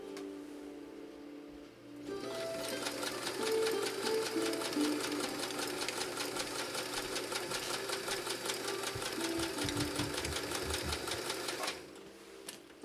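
A Kenmore sewing machine stitches dense fabric, starting after a short pause with a steady, fast mechanical whir and rapid needle clatter that runs about ten seconds before stopping abruptly.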